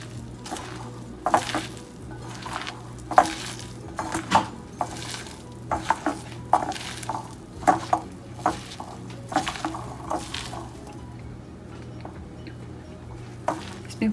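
Gram flour (besan) being mixed by hand with other ingredients in a bowl, giving soft squishing, stirring sounds in irregular bursts through the clip, with no talking.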